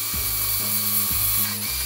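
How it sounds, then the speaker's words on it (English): A power drill bores a hole through a metal car key on a workbench, the motor whining steadily with a few short pulses and bursts as the bit bites, close and loud with no talking. "you want to drill the hole all the way through"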